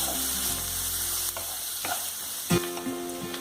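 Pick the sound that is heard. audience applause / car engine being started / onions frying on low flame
onions frying on low flame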